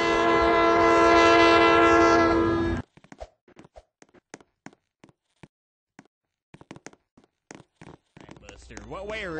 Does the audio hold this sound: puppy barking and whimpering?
no